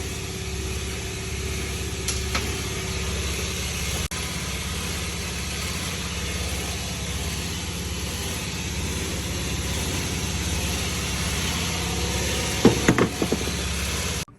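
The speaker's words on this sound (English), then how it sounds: "The compressor was on right now, so I might not have heard me correctly." An air compressor runs in an auto repair shop doing transmission work, giving a steady, unbroken droning hum throughout, with a few brief metallic clanks near the end and no talking.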